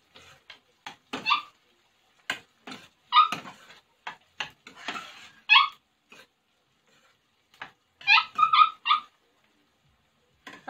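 A puppy whimpers and yelps in short high-pitched cries to get inside, scattered among soft close clicks and knocks in a quiet setting, with no talk over it.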